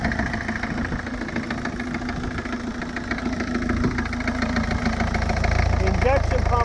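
A 1984 Peugeot 505 with the Indenor XD2 2.3 liter turbodiesel engine, leaking injection pump and aftermarket cone filter, idles steadily up close with a diesel clatter, growing slightly louder toward the end.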